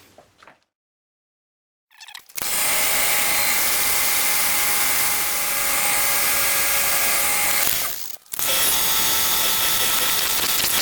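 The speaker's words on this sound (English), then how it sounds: "that rather large swarf that was flying off from the last drill, the 10mm drill" A power drill with a 10mm bit bores into a metal motorcycle top yoke with a loud, steady whine that runs for several seconds, stops briefly, then starts again.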